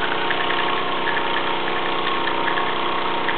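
Luton PW203 and Plane L5 model steam engines running together, a steady mechanical chugging hum with a fast rhythmic beat, close and continuous with no talk.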